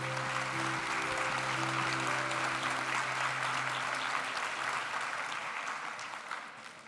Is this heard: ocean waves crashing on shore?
no